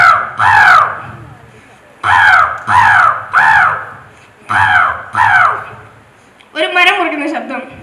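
A performer at a state school arts festival mimicry contest imitates a crow cawing on a tree branch. The voice gives a series of loud, close, harsh caws in uneven bursts with short pauses between them.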